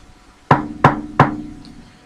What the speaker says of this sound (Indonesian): Suara orang mengetuk jendela kamar kami.